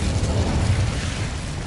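An Incendio fire spell cast in Hogwarts Legacy, a loud, dense roaring burst of flame with low rumbling body that holds steady for under two seconds, alone with no talk.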